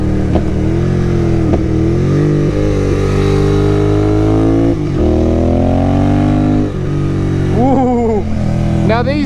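Royal Enfield Continental GT 650 motorcycle engine revving and pulling through gears on a corner-filled road, loud and close with rising and falling pitch under steady wind noise, someone talking over it.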